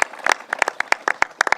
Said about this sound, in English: Steve Engelbright and Fred Thiel, let's give them a round of applause